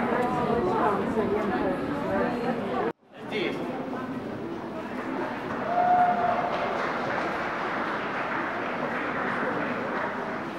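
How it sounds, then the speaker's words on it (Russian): A New Year-decorated metro train at the opening of Khovrino station rumbles steadily through a busy platform, with crowd chatter and voices throughout and a brief drop-out near the start. "Новогодний украшенный поезд."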